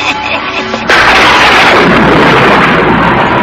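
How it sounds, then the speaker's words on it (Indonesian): A loud crack of thunder bursts in suddenly and rolls on as a heavy, sustained rumble filling the space. "Kenapa tiba-tiba ada suara petir?"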